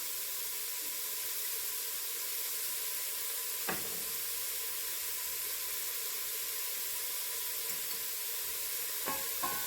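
Onion and garlic fry in a pan with a soft, constant sizzling hiss, punctuated by a couple of brief utensil clinks, fairly quiet and steady with no talking.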